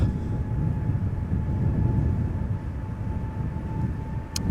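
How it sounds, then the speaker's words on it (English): A Boeing 777 spools up its engines at Amsterdam Schiphol, a heavy low rumble with a steady whining tone on top, loud and sustained throughout. "The 777 is already spooling up."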